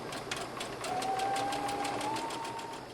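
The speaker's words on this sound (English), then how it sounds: "now watch carefully as I sew over this. I am catching that tie back in my seam." A sewing machine runs a steady straight stitch along the side seam of a dress bodice, catching a tie in the seam. The rapid, even needle rhythm is close and continuous, with a faint whine rising partway through.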